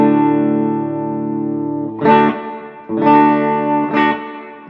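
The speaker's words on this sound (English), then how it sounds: "And then this, more reverb." An electric guitar runs through a reverb pedal set to plate, with a sustained chord ringing into a smooth wash before a few more strummed chords follow, each trailing off in lush reverberation.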